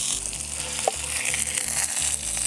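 Deer heart searing in a pan over an outdoor cooking setup, a steady hiss and sizzle of browning meat with faint crackles, continuous and close.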